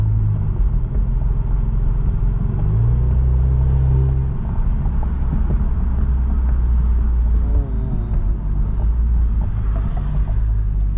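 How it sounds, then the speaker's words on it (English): Steady low engine rumble and road noise from an Alfa Romeo Giulia cruising in normal driving, heard from inside the cabin, continuous and fairly loud throughout with no talking. "I'm just driving around getting some miles in"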